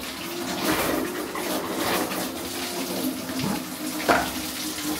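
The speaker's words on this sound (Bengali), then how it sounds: "ঠান্ডা জল বের হোক, আর প্রথমে গরম জল বের হয়।" Tap water runs steadily into a sink in a home kitchen, a continuous close splashing hiss with a few brief clinks, and no one speaking.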